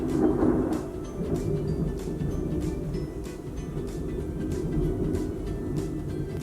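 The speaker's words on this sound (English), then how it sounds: "Thunderstorm ASMR." A thunderstorm with low, rolling thunder and steady rain hiss, continuous and moderately loud throughout, with no voices.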